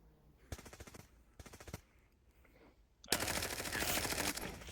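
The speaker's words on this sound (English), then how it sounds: "MG behind us." Machine gun fire in a military-style shooter game comes as two short automatic bursts, then a long, loud sustained stream of rapid shots closing the moment, with no talking.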